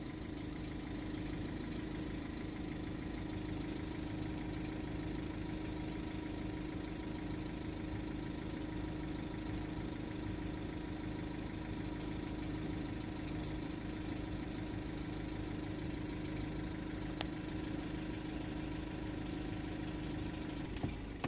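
A Ford Transit Connect 1.5 diesel van idles steadily, its low, even engine hum unchanging and close by, with no voices over it.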